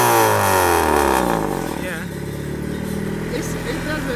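Turbocharged Honda Civic fed through a very long turbo manifold of about 15 feet of pipe, engine revving loudly and close, falling back to a steady rough drone halfway through, with voices speaking over it.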